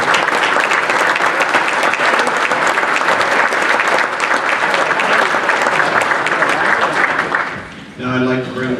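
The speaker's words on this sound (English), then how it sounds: "One final round of applause for all four of our coaches" Sustained applause from a ballroom audience at a baseball hall of fame induction ceremony, honoring four coaches; dense, loud clapping runs steadily for about eight seconds, then fades as a voice begins speaking.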